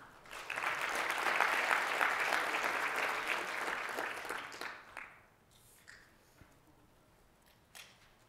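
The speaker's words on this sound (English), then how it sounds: "give yourself a round of applause for being here one more time" A crowd claps steadily for several seconds, then the applause fades out, leaving a few scattered, isolated claps.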